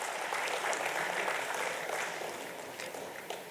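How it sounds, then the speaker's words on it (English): An audience at a national cost and management accountants' convention gives steady, dense applause that tapers slightly toward the end. It sounds distant and moderately faint. "Can we have a huge round of applause for the CFO of OTV?"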